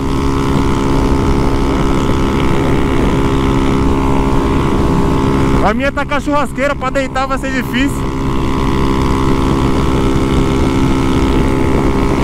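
Honda Fan 150 Mix motorcycle engine on a ride to the beach, a steady, loud drone mixed with wind buffeting throughout, with someone speaking briefly partway through.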